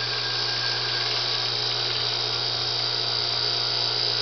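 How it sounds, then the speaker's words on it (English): A small vacuum pump pulling CO2 out of a batch of kit wine, running as a loud, steady motor whine with a low hum underneath, unchanging throughout. "if I turn on the pump"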